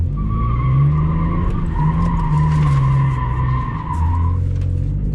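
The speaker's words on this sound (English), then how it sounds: "You can do donuts in the automatic." A Lexus IS300 with an automatic transmission spins donuts, its tires screeching in long sustained squeals over a steady engine drone, loud and close with no talking.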